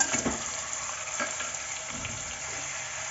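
Village-style mutton marinated with salt and chili powder fries in oil while being turned from bottom to top, giving a steady close sizzle punctuated by a few soft stirring scrapes.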